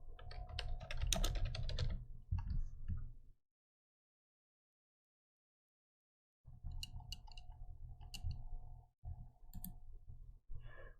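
Computer keyboard typing in a burst of rapid clicking clicks, then several seconds of silence before a second stretch of steady keystrokes, close and clear, with no voices.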